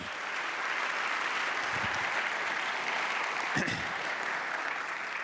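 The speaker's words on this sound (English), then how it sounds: "I want to give one more round of applause for our volunteers" Church congregation giving a round of applause for volunteers, sustained dense clapping from a large crowd filling the whole stretch at even loudness, with a few faint vocal sounds mixed in.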